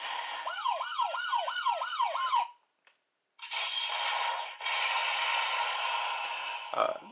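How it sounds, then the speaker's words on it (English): A video game police siren wails, sweeping up and down in rapid repeated cycles, then cuts off; after a short gap a steady electronic hum continues. "we get a new sound, which is a police siren"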